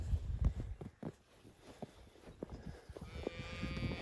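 Holstein cattle stand on a farm after a March snowstorm, with a faint low moo drawing out near the end over quiet rustling and shuffling.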